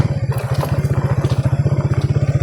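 A highway-type motorcycle labours over a rough, bumpy road, its engine throbbing in a fast steady pulse, loud and close, with faint clattering over the top.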